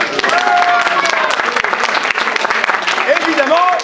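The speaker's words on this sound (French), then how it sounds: "On applaudit Thomas." Audience applause at a live comedy show, a steady loud wash of clapping filling the whole stretch, with voices and cheers mixed in.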